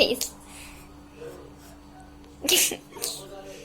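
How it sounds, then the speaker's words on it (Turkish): A cat's sharp, loud sneeze bursts out close by, followed by a short breathy exhale, with a faint hum and light background noise around it. "Hapşırdı hepsini dağıttı karşıda en sonunda."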